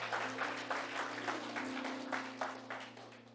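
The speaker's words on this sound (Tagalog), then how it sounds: "Pumalakpak ang gising" A church congregation claps together in a dense, sustained round of applause, moderately loud against a steady low hum in the room.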